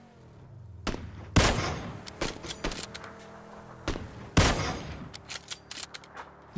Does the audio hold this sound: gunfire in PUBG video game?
yes